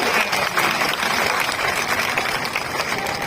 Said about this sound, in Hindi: तालियों की गड़गड़ाहट से हम धन्यवाद अर्पित करें।